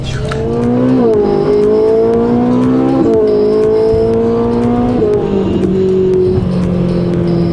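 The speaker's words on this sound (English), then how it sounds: "All right, the car is good, drives awesome." A rebuilt Ferrari 458 engine drones steadily under load, pitch climbing in smooth stretches with brief dips at each gear change, loud and close throughout, likely from inside the car.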